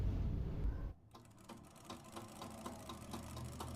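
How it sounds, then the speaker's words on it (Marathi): A sewing machine stitches a cord onto a fabric latkan for a blouse, running in a soft, steady mechanical whir with quick repeating needle ticks after a brief low rumble at the start. "शिलाई मारून घ्यायची आहे"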